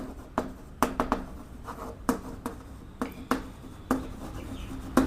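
Pen strokes scratch across paper as a maths formula is written out by hand, short scratchy bursts recurring every half second or so in an uneven rhythm, close and fairly clear with no talking.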